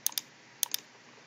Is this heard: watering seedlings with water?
no